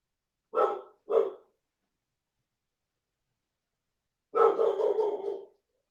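A dog barks two short, sharp times, then after a pause gives a longer, rougher bark trailing off, loud and close against silence.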